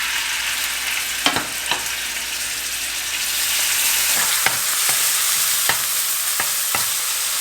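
Beef frying over high heat in sunflower oil in a copper saç pan, a steady, loud sizzle punctuated by several sharp scrapes and taps of a utensil stirring the meat; no talking.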